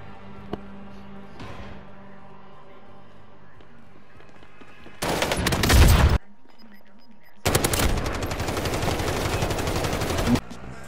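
Video game gunfire breaks out in two loud bursts of rapid shots, the first about a second long and the second lasting around three seconds, after a quieter stretch of game background sound.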